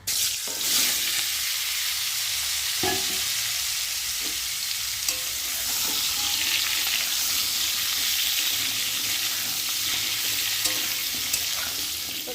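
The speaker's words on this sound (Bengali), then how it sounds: "আর এখন আমি কেটে রাখা আলুগুলোকে দিয়ে আগে প্রথমে ভালো করে ভেজে নেব" Cut potatoes frying in oil in a pan after bay leaf tempering, a steady close sizzle lasting throughout, with occasional stirring scrapes and no voices.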